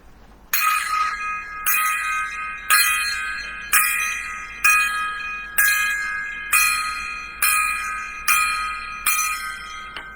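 A gong struck ten times in a steady salute, each loud metallic strike ringing bright and shimmering before the next hit comes about every second, with no talking over it.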